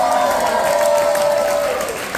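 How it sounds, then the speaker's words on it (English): A theatre audience at a Drunk Theatre SF show applauds and cheers for the performer Molly. The burst is brief and dense, with a voice calling out over the clapping. "give one more round of applause for our drunkard tonight"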